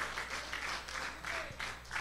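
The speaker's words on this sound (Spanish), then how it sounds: "Así que hacen un aplauso ustedes mismos." Church congregation applauding in a continuous, moderately quiet wash of clapping for a couple of seconds.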